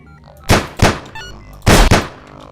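Enemy gunfire in the survival game Sir, You Are Being Hunted: two pairs of sharp, loud shots, each pair a quick double bang, separated by about a second, with no talk over them.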